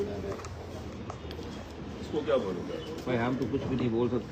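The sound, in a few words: pigeons cooing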